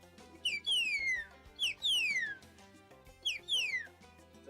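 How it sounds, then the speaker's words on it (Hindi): Sharp whistle blown to call pigeons home, three rising-and-falling bursts in a repeating pattern, each a quick chirp followed by a long descending glide, loud and close over a faint background. "एक सीटी बजाई जाती है"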